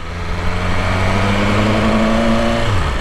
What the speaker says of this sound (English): let this red car go by